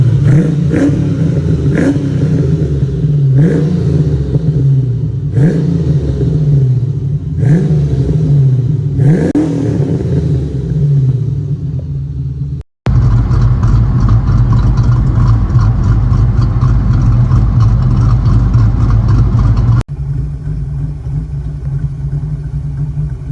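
Foxbody Mustang fitted with a Bassani X pipe and 2.5 inch catback with stainless tips, giving a loud, deep V8 exhaust burble with five sharp rev blips, then a steady rumbling idle and a lower drone after cuts.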